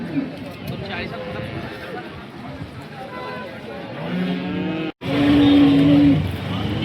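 A cow bellows at the Sangola cattle market in Maharashtra, one loud, drawn-out low moo rising near the end over steady market chatter and nearby voices.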